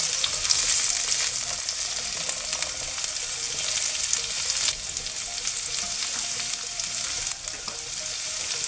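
Garlic sizzles steadily in a hot pan as it turns golden, a loud continuous frying hiss with two brief shifts when it is stirred, and no voices.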